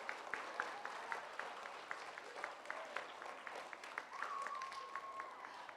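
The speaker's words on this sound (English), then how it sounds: "Let's give these boys and girls a round of applause" An audience at a school honor roll assembly applauds in a steady patter of clapping, with a few sharper individual claps standing out from the crowd and faint voices underneath.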